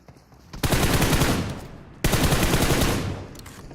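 Automatic gunfire in the mobile game PUBG Mobile comes in two sharp, loud, rapid bursts of about a second and a half each, separated by a brief gap, with no speech.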